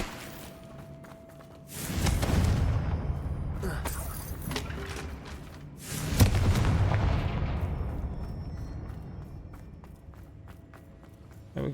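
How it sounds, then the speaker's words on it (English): Confringo explosion spell cast in Hogwarts Legacy, two loud booming blasts several seconds apart, each bursting suddenly and rumbling away into a long decaying tail of debris. "Confringo. Best way to do it, just destroy it."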